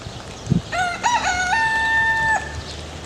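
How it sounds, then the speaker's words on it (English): A rooster crows once in the morning on an African farm, a loud, close, drawn-out cock-a-doodle-doo lasting about two seconds after a short cluck. "A morning rooster"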